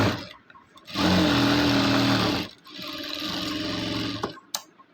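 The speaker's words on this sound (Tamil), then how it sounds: "இப்போ பட்டி எப்படி அடிக்கலான்னு பார்க்கலாம்." A sewing machine stitches the band of a blouse, running in two close, loud bursts of rapid motor whir separated by a brief pause, with no talking.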